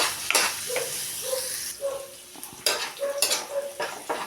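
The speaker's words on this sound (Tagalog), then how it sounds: "Gisa natin itong bawang." Chopped garlic sautés in hot oil in a pan, a steady sizzle and frying hiss broken by scrapes and stirs of a utensil against the metal, close and fairly loud.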